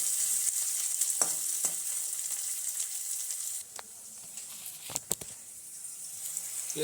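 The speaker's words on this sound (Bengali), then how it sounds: "পেঁয়াজটা লাল লাল করে ভাজছি তোমরা তখন দেখতে থাকো" Onions frying in a pan until reddish make a soft, steady sizzle, broken by a few sharper scrapes and taps of stirring and no voices.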